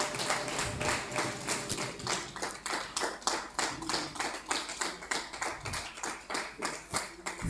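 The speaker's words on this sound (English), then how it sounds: "Please give him an applause." Clapping at a university debate championship, a rhythmic, closely miked pattern of hand claps in a steady beat of about four per second, continuing evenly throughout.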